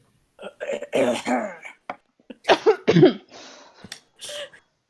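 A voice mimics a man clearing his throat, with a few rough, guttural bursts and short pauses between them, close and fairly loud.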